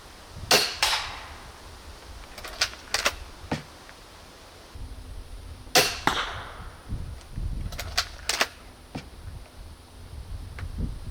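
Interceptor crossbow with a 120-pound limb set firing bolts: several sharp snapping releases with quick thuds, spread across the clip, loud and close, with no talk.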